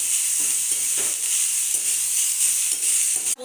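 Vegetables sizzle steadily in a hot pan, a bright continuous hiss with soft periodic scrapes of stirring, close and loud, ending in a brief clatter.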